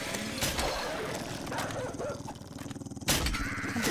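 A dog in the co-op video game 7 Days To Die Alpha 12.4 lets out a few harsh, close barks, yips and growls in short bursts over constant game noise.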